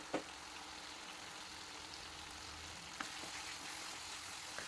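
Tomato with salt cooks in a pan, a faint, even hiss of frying running throughout with a couple of soft clicks of the spoon, quiet and distant, no voices.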